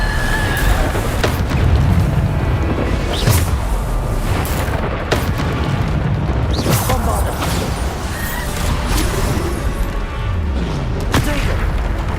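Bombarda blasting spells booming again and again during a Hogwarts Legacy battle, loud explosive thuds and crashes landing every second or two over continuous game combat noise, with voices calling out spells in between.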